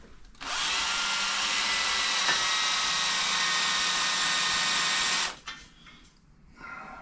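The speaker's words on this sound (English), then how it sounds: "Because we drill the first base hole" A loud, steady power drill whirs continuously for about five seconds, then cuts off, leaving quiet background noise.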